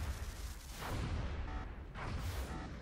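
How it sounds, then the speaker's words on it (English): Repeated explosions in a video game about alien interception, dense booming bursts rolling one into another with a low rumble throughout, loud and continuous over about three seconds. "Look at all those explosions."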